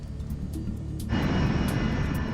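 United States Air Force cargo jet coming in to land, its engine roar rising into a loud, broadband rushing rumble that swells abruptly midway and holds steady.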